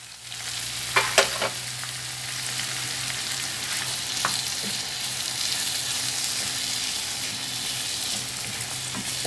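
Onions fry in a pan for quick chicken liver, with a loud, steady sizzle, a few sharp spatters at the start and a faint low hum beneath.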